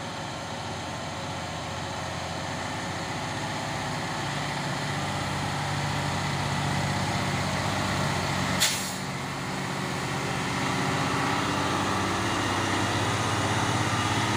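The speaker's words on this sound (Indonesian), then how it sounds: "Satu unit dump truck Hino Jember Euro 4 ini ya." A Hino Euro 4 dump truck rolls slowly, its diesel engine a steady low rumble that builds gradually, with one brief sharp hiss of air partway through.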